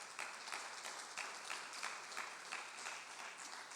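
A church congregation claps in praise, a faint, distant spread of applause with loose rhythmic pulses running through the short stretch.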